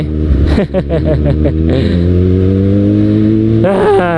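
A Kawasaki Ninja ZX-6R sport motorcycle with a Burnout aftermarket exhaust revs sharply several times in quick bursts, then holds a loud, throaty drone close by, with a brief rise at the end.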